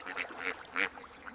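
Ducks quack at dawn on a large duck farm, a few short nasal calls in a loose rhythm, fairly faint and close together with no talk.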